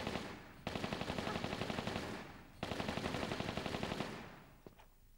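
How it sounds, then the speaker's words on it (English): Automatic Uzi fire from the Tomb Raider 3 video game in the Nevada Desert level, two long sustained bursts of rapid, evenly spaced shots, loud and close, separated by a short pause, with a brief tail and faint clicks afterward. "I prefer the uzis because they're automatic and they sound cool"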